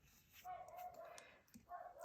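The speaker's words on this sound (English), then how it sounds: "You can probably hear some barking out there." Neighborhood dogs bark outside, far off and faint, in a few short barks and yips scattered through the moment.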